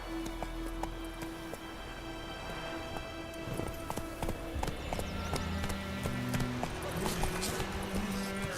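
Galloping horse in The Witcher 3, quick hoofbeats thudding over rain-like game ambience and a low musical drone, moderately loud and continuous, with no one speaking.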